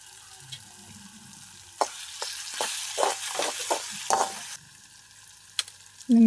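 Three eggs crack into a pan and begin frying, a burst of loud sizzling and spattering that rises suddenly after a quiet start, then drops back, with a sharp tap near the end.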